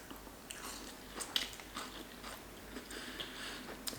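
Crunchy bites and chewing of a Mexican sope topped with lettuce and beans, close and quiet, with soft crackling crunches spread over a few seconds and no talking.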